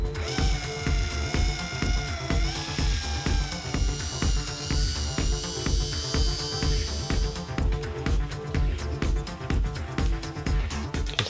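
A KD incline machine polisher works Cartec Diamond Cut 3000 compound into the paint of a Mini Cooper S. It whirs steadily up close with a rhythmic pulsing hum and a high whine that shifts in pitch, with no talk.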